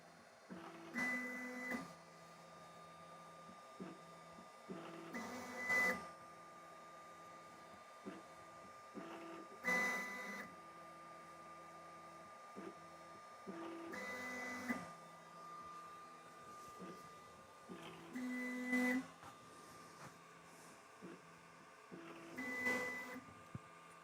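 A Sovol SV08 3D printer's stepper motors with 2209 drivers whir and buzz in repeated short bursts during offset calibration, with quieter gaps between, faint and steady throughout.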